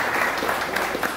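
Congregation applauding during a church worship service, a steady, dense patter of clapping filling the room with no voices over it.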